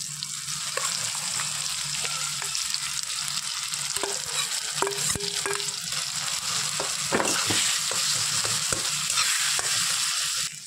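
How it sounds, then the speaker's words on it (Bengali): Potatoes fry in a pan with oil for a paneer omelette, giving a steady, close sizzle throughout with occasional clicks of a utensil stirring, and no talking. "তো বন্ধুরা এই যে আলুটা দিয়ে দিচ্ছি এবার"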